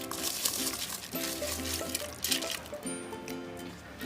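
Basmati rice tipped into a pot of boiling water while making chicken dum biryani, producing close pattering, trickling and bubbling sounds with a few brief clinks, moderately loud throughout.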